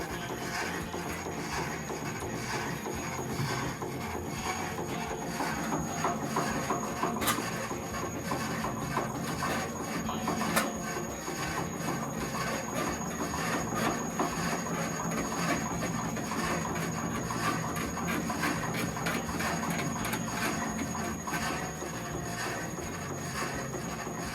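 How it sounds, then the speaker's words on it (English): A PullMax machine shaping sheet metal in a metalworking training shop, a continuous rapid mechanical chatter with a thin high whine and occasional sharper knocks, loud and steady throughout with no talk. "It goes very, very quick with the PullMax, so we have to be careful we don't overdo it."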